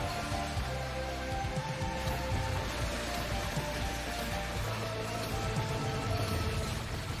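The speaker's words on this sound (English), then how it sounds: "Oh, it's raining." Steady, dense rain falls throughout in a video game, a continuous even hiss with no voices over it.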